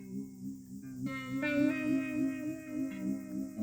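A thin, hollow-toned instrument signal run through a RounderSounds Small Blender with its phase flipped out of phase, sustained notes changing pitch a few times with a slightly phasey, reedy character, played alone.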